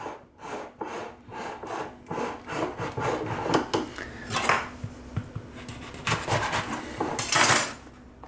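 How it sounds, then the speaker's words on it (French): Cake batter for a Valentine's passion fruit cake is stirred in a bowl, giving a steady run of rhythmic scraping and rubbing strokes with light clinks of utensil against the bowl, close up and alone. "Donc, je mélange."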